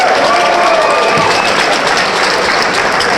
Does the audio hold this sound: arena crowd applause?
yes